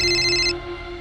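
Mobile phone ringtone ringing in a tense police crime-drama scene, a bright electronic melody for about half a second that then cuts off, leaving a steady low hum.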